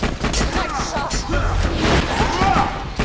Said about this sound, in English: Who's shooting me in the ass?